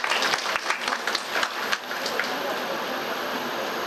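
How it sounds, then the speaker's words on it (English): An audience at an international academic conference claps for a speaker, a dense burst of applause that is strongest at the start and then settles into steady clapping. "So big round of applause for Sir Dr."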